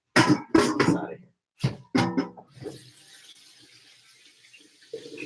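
Running tap water rinses a big leaf for vegan sauerkraut fermentation, a steady soft hiss of flowing water that starts after a stretch of talk and continues alone to the end.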